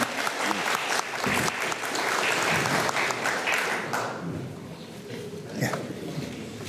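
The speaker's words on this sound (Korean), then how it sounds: "모두 환영의 박수를 보내주셔서 감사합니다" An audience at a May 18 Democratization Movement testimony event gives a full round of welcoming applause, dense and sustained for several seconds before thinning out, with a few voices and a faint voice audible as it fades.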